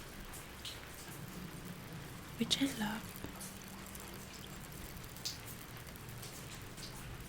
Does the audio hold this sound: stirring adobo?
no